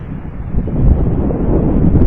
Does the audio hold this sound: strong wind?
yes